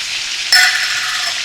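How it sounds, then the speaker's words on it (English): Chicken and onions start frying in a hot pan over medium-low heat. A sudden loud hiss and sizzle bursts in as the onions go in and then continues steadily, close by, with no talking. "Now that we've got a nice little sear on the chicken, we're going to add some onions."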